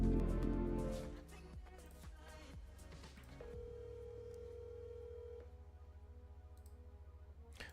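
A phone call rings out through a handset, a steady tone holding for about two seconds after a few clicks, fairly quiet under a low background hum.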